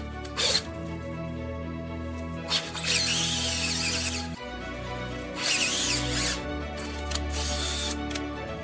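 Hand-held power drill boring out a hole slightly over 1/16 inch larger in a drill press part, whining in several short bursts with pauses between, close and fairly loud.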